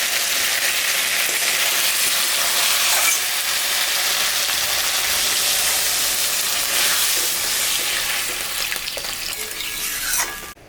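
A pan of rui fish and jackfruit curry sizzles and hisses loudly and continuously as water goes in. The dense, steamy crackle holds steady from start to finish and eases only slightly at the very end, with no voices.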